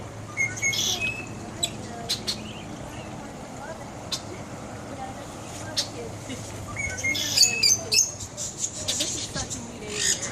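Caged birds in a bird cage at a sheriff's animal farm sanctuary, the same enclosure that holds a sloth, give scattered high chirps and tweets in short bursts over a busy outdoor background with murmuring voices.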